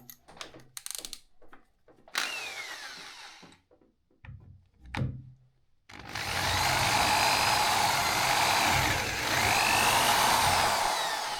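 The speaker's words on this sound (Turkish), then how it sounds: "çap 5 matkapla birer tane delik delip deliği devam ettireceğim" A few scattered clicks and taps, then a power drill with a 5 mm bit whirs loudly and continuously through a wood wardrobe panel, its steady high whine holding for several seconds.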